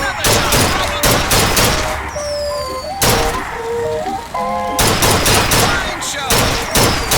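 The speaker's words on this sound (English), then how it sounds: "Now, shoot the Vox when they appear, get it up, and you'll win a prize" Rapid gunshots at a shooting gallery in BioShock Infinite, loud clustered volleys of cracks in bursts separated by short gaps with ringing carnival-game chimes and tones, a voice speaking briefly between shots.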